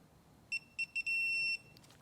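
An electronic torque wrench beeping as it reaches target torque on a BMW S55 spark plug: three short, evenly spaced beeps, then one longer sustained tone, clear and close against a quiet garage.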